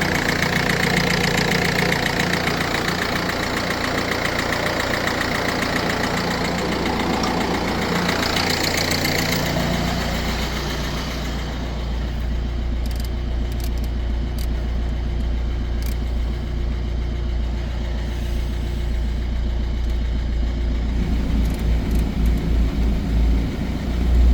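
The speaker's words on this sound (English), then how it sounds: "Yeah, definitely a chuffing injector, look at that." A Ford Fiesta engine idles steadily up close, a continuous low rumble with an uneven chuffing beat from a faulty injector, loudest in the first ten seconds and then settling into a duller, lower drone.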